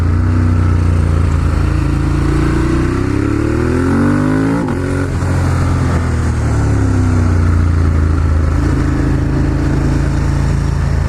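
A 2015 Ducati Monster 1200S motorcycle engine rumbles loudly on the road, revving up through gears with rising and dropping pitch, a shift around the middle, and steady wind noise throughout.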